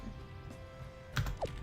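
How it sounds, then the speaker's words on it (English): Faint, soft keystrokes on a computer keyboard, a few light taps close by under quiet background hum, with no one talking. "you could just start typing as well"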